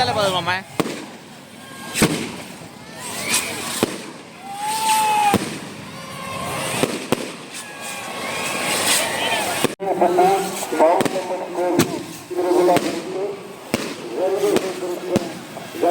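Fireworks burst repeatedly at a temple festival, sharp cracks and booms recurring every second or two with crackling trails, loud and fairly close, while people talk throughout.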